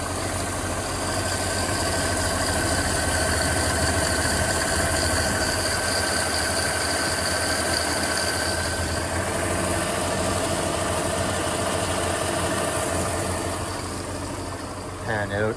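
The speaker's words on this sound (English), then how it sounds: "So I'll zoom in on the belts that are running, and we can get a good listen to those." A Lingenfelter-modified 2010 Mercedes-Benz SL550 AMG Roadster idles with its belts spinning, giving a steady close engine drone and whine with tonal hum, unchanging for the whole stretch before easing slightly at the end.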